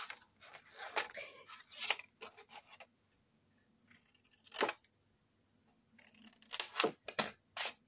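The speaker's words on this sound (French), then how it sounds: "petit ciseau" Small scissors snip paper for a handmade mini album, several crisp cuts clustered at the start and near the end, with a lone snip in the middle and quiet pauses between.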